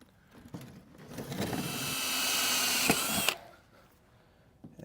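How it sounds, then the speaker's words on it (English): A power drill drills holes in a paramotor frame, whirring steadily for about two seconds, rising in pitch, then stops abruptly; a few faint clicks before and after, no talking. "And then I'm going to drill new holes."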